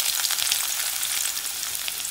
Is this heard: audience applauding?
no